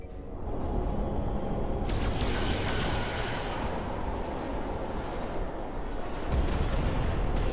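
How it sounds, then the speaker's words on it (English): Photon torpedoes firing in the Star Trek Resurgence video game, a deep, sustained roaring rumble with a brief whoosh early on and a heavier surge near the end, loud and without speech. "Fire photon torpedoes. Firing photon torpedoes."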